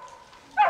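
A dog barks once from somewhere below, a short burst near the end after a quiet stretch with a faint tone.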